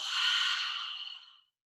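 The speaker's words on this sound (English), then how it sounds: "just take an open mouth exhale" A single long open-mouth exhale during breathwork, a close, breathy whoosh that fades out after about a second and a half, followed by silence.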